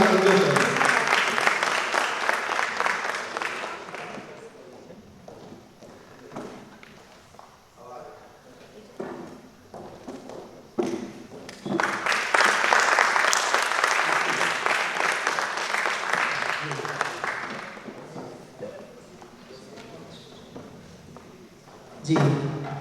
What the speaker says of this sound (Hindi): जोरदार तालियों के साथ संजय सर